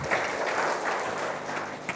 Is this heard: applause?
yes